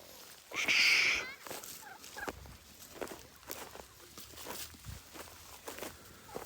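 A turkey lets out a single loud, rattling gobble near the start, followed by quieter shuffling and scattered bird noises from the flock.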